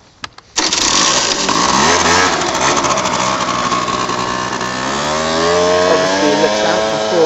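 A motorcycle engine starts up loudly after a brief pause and keeps running steadily, its note rising and shifting as the rider pulls out onto the road and rides off, continuous throughout with no talk.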